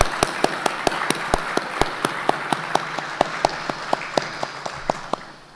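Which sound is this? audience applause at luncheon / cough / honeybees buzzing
audience applause at luncheon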